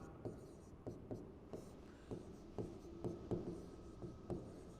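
Marker or chalk strokes on a board during a physics lecture on electrodynamics, a series of short scratchy taps and rubs repeating irregularly at close range, with no talk over them.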